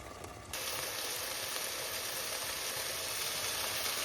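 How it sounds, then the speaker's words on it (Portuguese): Food frying in a hot pan with a little water cooking off, a loud, continuous sizzle that jumps up abruptly after a quieter start and then holds steady and close. "Ela tá fritando, a aguinha não tá tão seca, a aguinha tá secando"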